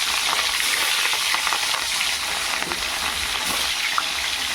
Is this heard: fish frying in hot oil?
yes